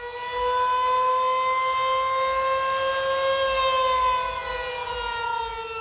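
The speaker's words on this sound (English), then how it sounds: "156 warning sirens in Dallas, and every single one of them went off" Outdoor warning sirens sound across Dallas late at night, a steady wailing tone that slowly bends in pitch and holds loud and sustained throughout, with no voices.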